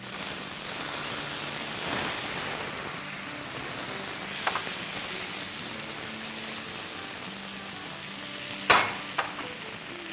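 Tomatoes sautéing in a pan for a spinach stew garnish give a steady, moderate sizzle, with a few brief scrapes of stirring near the middle and end.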